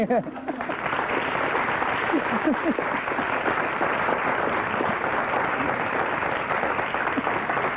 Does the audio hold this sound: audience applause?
yes